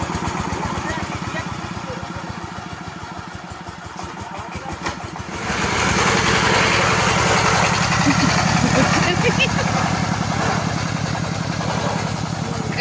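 A motorcycle engine putters at a steady idle in a rural village, then opens up after about five seconds into a louder, rougher, sustained running drone close by.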